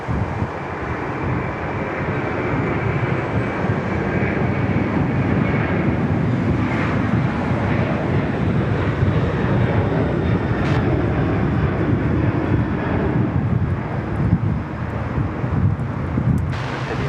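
Jet airliner taking off from Sydney Airport, a sustained loud roar with wind buffeting the microphone, steady throughout at close to moderate distance.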